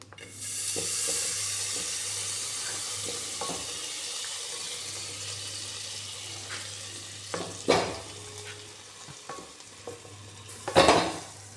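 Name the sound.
butter melting in a pot on the gas stove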